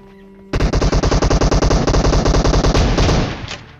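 Sustained automatic gunfire in PUBG Mobile, a rapid even burst of loud close shots lasting about three seconds before trailing off; no separate car explosion stands out.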